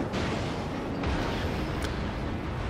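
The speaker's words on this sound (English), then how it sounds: "So I start firing with my guns." Deep, rumbling naval gunfire from the destroyer Umikaze in World of Warships, firing at a cruiser, booms in a dense, continuous roar with a few sharper reports standing out.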